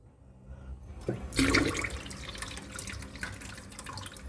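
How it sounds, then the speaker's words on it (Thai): Water gushes and splashes steadily from a kitchen sink faucet after a brief quiet start, a strong continuous rush like a faucet opened wide, with some dripping texture. "อ้าวน้ำไหลแรงเลยนะครับ"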